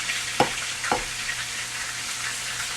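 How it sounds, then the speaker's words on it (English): Bacon and chopped onions fry with a little butter in a skillet, a steady close hiss and crackle of sizzling broken by two sharp taps of a spoon on the pan. "I'm going to chop some onions up in the skillet to fry with the bacon"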